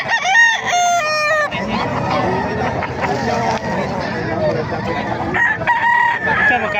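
Roosters crow repeatedly and hens cluck at a busy chicken market in Bocaue, Bulacan, with crowd chatter and nearby talking underneath.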